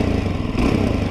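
Suzuki DRZ motorcycle engine revving up from idle on a used bike, a steady, loud, dense mechanical roar that holds for about a second with no voices.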